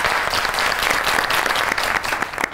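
Studio audience applause on a television variety show, dense and steady clapping from a crowd at close range, continuous and fairly loud through the whole short stretch.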